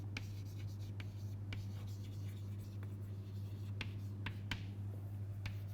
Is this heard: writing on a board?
yes